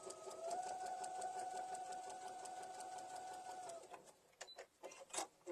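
Near and quiet, a sewing machine stitches across a small Easter bunny mini quilt in a steady rapid whir for under four seconds, then stops, followed by a few soft handling clicks.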